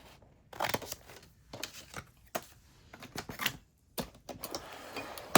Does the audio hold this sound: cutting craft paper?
yes